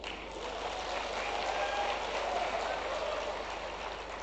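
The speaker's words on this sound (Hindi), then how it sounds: "अमित कुमार जी, ज़रा खड़े होकर और आप इनका भी ताली बजाकर स्वागत करें।" Audience applause welcoming a guest at a regional tourism conclave in Rewa, a dense, steady wash of many hands clapping at moderate volume throughout, with no speech over it.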